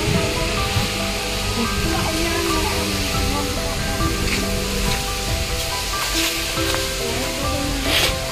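Water pours steadily at Khandadhar waterfall in Keonjhar, a dense, continuous roar of spray and splashing that holds for several seconds, close and loud, with a faint voice briefly mixed in.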